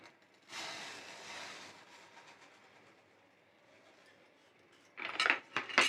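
Milk and sugar are stirred in a pan over a low gas flame, first a soft swishing rush, then near the end a burst of loud metallic clinks and scrapes of the spoon against the pan, with no talking.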